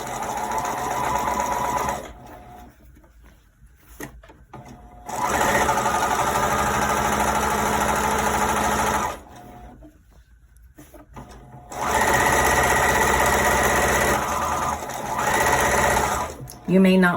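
A sewing machine stitches a hem and elastic casing in loud steady bursts of rapid needle chatter, separated by quieter pauses with handling noises.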